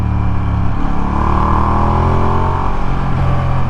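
Ducati XDiavel motorcycle engine droning steadily at loud, close range while riding, a continuous low rumble with a slowly shifting pitch.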